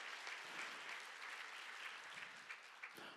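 Church congregation applauding during a Sunday worship service at a youth retreat, a steady wash of clapping that holds throughout, fairly distant and even.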